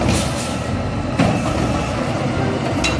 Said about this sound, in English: Wow, this is a garbage truck.